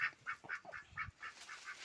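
A duck in a farmyard beside chickens quacks faintly in a quick, even run of about eight calls, with no other sounds around.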